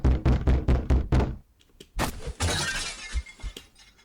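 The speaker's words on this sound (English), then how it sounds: "the sound of the door being ripped off its hinges, followed by a loud crash against the wall on the other side of the room" A door is ripped off its hinges in a rapid run of heavy knocks, then a loud crash with shattering debris against a wall, fading into scattered clatter.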